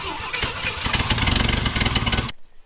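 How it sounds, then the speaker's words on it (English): A car engine, given a shot of starting fluid, cranks over rapidly with a rough, uneven chugging that nearly catches, then cuts off abruptly into silence. "it sounds like it's almost about to start"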